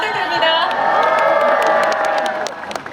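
A large concert crowd at a fan event cheers, whoops and applauds loudly together, a dense roar that eases off near the end.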